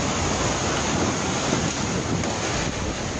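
Flood water rushes and surges through a village street in barangay Mahayahay, striking like waves in a steady, loud, broadband roar with no pauses and no voices.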